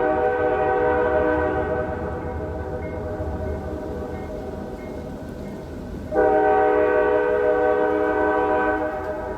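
A train passes a farm near Sterling Run, sounding a long, steady horn with a rumbling undertone. A second, louder horn blast starts partway through and holds to the end.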